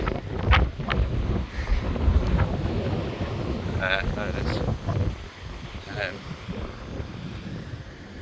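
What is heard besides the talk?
strong wind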